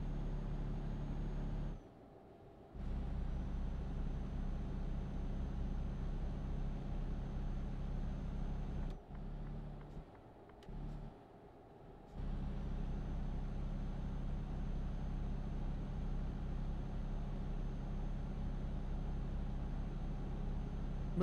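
A heavy truck driven in Euro Truck Simulator 2 drones with a steady low engine rumble across the stretch, dipping briefly a few times as if shifting or easing off, with no talk over it.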